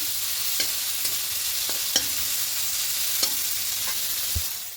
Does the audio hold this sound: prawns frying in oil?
yes